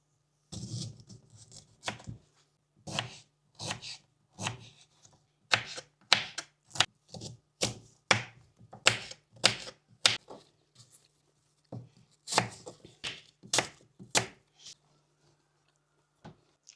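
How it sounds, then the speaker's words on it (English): A knife cuts through beetroot in a backyard homestead kitchen, around twenty crisp, close chops in uneven rhythmic bursts against a quiet background. "I'm going to cut beetroot."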